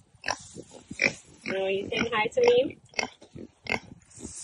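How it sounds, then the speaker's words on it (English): Kunekune grazing pigs from New Zealand on a solar-powered ranch give a few soft grunts and snorts close by. A person talks over them almost throughout. "Our pigs are over here, enjoying their being lazy."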